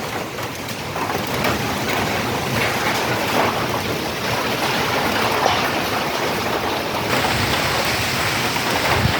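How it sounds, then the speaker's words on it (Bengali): Light rain falls during a Kalbaishakhi storm, a constant dense hiss with wind-like rushing that stays even throughout, with no voices. "হালকা হালকা বৃষ্টি পড়তেছে।"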